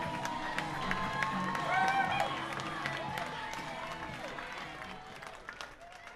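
Crowd at a minor-league baseball game stirring and cheering with scattered claps and whistles, swelling slightly then easing, while an announcer's voice carries over the stands.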